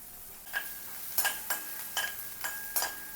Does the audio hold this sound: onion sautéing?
yes